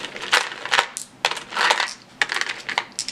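Plastic game dice from the Quarriors dice-building game dropping into a cloth bag, several close bursts of clattering rattles separated by short pauses.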